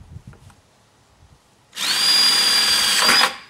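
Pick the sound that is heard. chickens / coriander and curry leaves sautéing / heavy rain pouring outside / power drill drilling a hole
power drill drilling a hole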